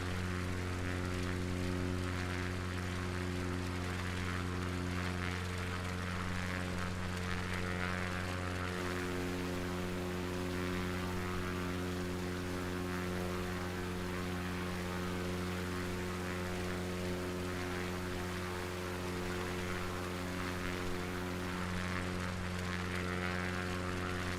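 Steady propeller-plane engine drone from a bush-flying aircraft in Microsoft Flight Simulator 2020, a continuous even hum with strong harmonic tones that stays loud and unbroken throughout, with no voices.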